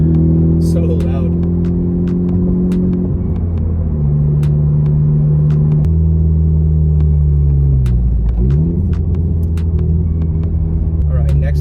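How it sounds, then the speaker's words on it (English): Honda Civic Type R with a new downpipe, full bolt-ons and a stage 2 tune, its turbo engine droning loudly and steadily from inside the cabin, dipping at gear shifts and rising again under acceleration. "Even in high RPMs, the car does not sound raspy, which is always a good thing."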